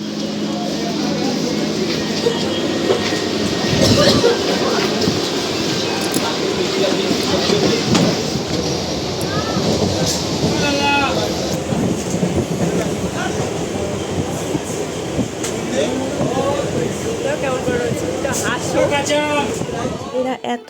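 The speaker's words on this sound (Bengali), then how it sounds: "এই যে ট্রেনও চলে এসছে" A train rolls in with steady rumbling and rattling, brakes squealing near the end, while people talk over the noise of a busy platform.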